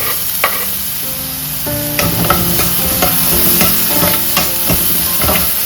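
Onion, tomato and ginger garlic paste sauté in a pan, a loud, continuous sizzle broken by repeated clanking strokes of a spoon stirring against the metal; no talking.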